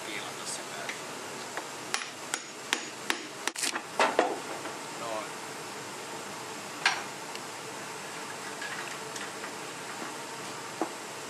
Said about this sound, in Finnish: aika kulunut tää korku, kun pitäis kiilata, niin mä otan tän kokonaan veke